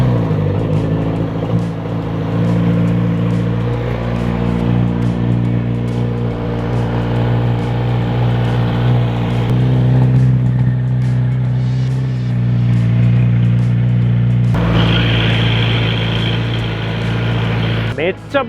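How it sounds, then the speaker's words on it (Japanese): A Kawasaki Z900RS with a water-cooled four-cylinder engine runs steadily, a deep, thick, muffled continuous drone close by, with a few brief throttle changes. "水冷4気筒のZ900RS、 川崎がサウンドチューニングにもこだわったということなんで、"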